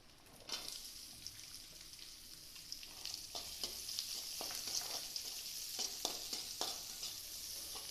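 Chopped onions fry in a pan for a dried anchovy (nethili karuvadu) curry, giving a quiet, continuous sizzle dotted with soft clicks and scrapes of stirring, growing slightly fuller over time.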